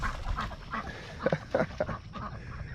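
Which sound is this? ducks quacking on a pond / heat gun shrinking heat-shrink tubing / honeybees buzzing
ducks quacking on a pond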